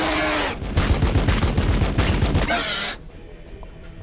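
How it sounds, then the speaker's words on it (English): Rapid gunfire aimed at gargoyles in Warhammer 40,000: Battlesector, a loud dense burst of shots lasting a few seconds before cutting off to quieter battle ambience. "Now we need to shoot the gargoyles."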